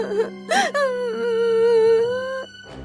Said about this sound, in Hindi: बकरी के बच्चे के रोने की आवाज सुनकर